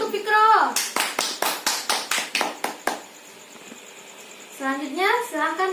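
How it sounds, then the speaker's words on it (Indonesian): Children in a classroom clap in a quick burst of a dozen or so sharp, evenly spaced claps, with a voice speaking before and after. "Tepuk tangan untuk Fikro."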